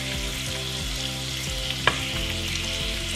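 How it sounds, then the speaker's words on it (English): Bacon frying in a pan on the stove, a loud steady sizzle and crackle running throughout with one brief clatter near the middle. "Now the bacon, since it started to fry a little late, needs a little more time."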